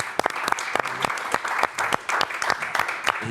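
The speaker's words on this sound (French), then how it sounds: "Je pense qu'on peut applaudir aussi." Applause from an audience at a talk on migration, a sparse round of individual claps with distinct separate hand strikes rather than a dense roar, close and fairly loud, with faint voices underneath.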